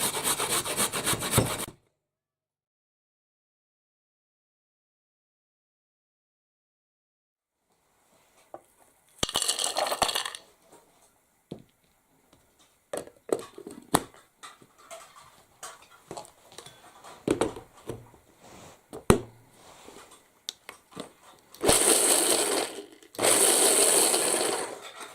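Toasted walnuts being crushed for a carrot cake, in scattered bursts of gritty rubbing and crunching with sharp clicks, separated by a long silent gap near the start and ending with louder sustained grinding passages.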